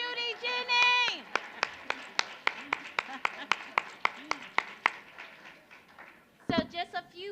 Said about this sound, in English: Everybody give a round of applause for Judy Jennings.